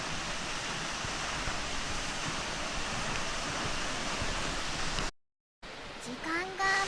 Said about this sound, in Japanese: やっと滝が見えました。